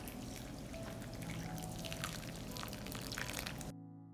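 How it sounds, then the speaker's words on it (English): Water pours steadily over freshly planted onions in a garden bed, a continuous close splashing stream that runs without pause for several seconds, then cuts off abruptly. "Immediately after planting, I water the onions abundantly."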